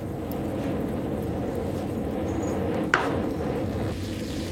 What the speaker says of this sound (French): Voici le bruit du feu à basse température.